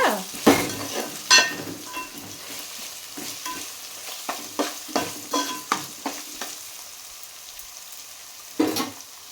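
Fish curry masala fries in a pan under intermittent stirring, with a faint low sizzle and a series of sharp spoon scrapes and clinks, close and alone.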